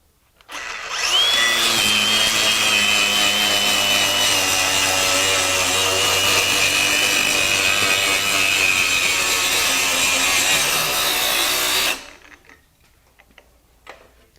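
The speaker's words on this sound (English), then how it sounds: "So definitely grinds very well, you know, removing rust." A Craftsman CMCG450 brushless 20V cordless 4-1/2-inch angle grinder grinds years of rust off angle iron, a loud steady whine with a rasping edge that runs unbroken for about ten seconds and then cuts off abruptly.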